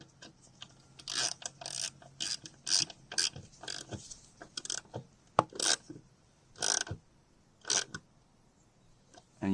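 Small 8mm nut being tightened with a ratcheting tool onto a fuel filler door clip on a Rolls-Royce or Bentley, giving a series of quick ratchet clicks in short bursts, close and fairly quiet.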